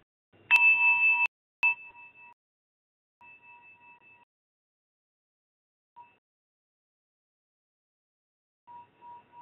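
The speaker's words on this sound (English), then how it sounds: "This is a bell that I'm very familiar with. I meditate each morning." A meditation bell is struck several times, each ring a clear metallic ding with a long, pure sustained tone that fades slowly, followed by quieter, softer strikes with silence in between.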